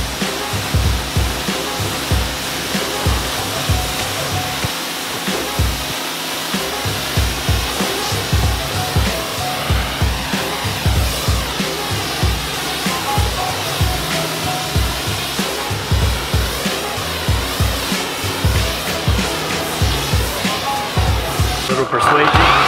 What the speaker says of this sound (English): All right, let's rinse it off.